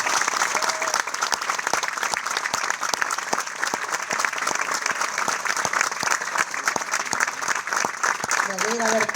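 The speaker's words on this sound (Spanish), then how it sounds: "para quien ya pido un fuerte aplauso" Sustained applause from a large audience at a radio tribute to Fernando Peña fills the whole stretch with steady, dense clapping, loud and even throughout, and a voice briefly cuts in near the end.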